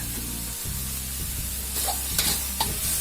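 Pad kaphrao being stir-fried in a pan, a soft steady sizzle broken by several quick scraping clatters of a spatula toward the end.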